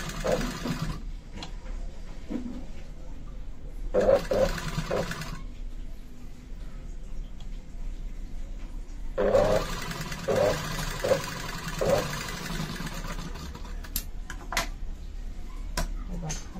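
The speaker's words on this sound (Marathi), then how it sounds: "सुरुवातीला शिलाई लॉक करून घ्यायची." A sewing machine stitches piping onto a Katori blouse in two bursts of rapid mechanical whirring, one short and one longer, with quiet pauses between them and a low room hum underneath.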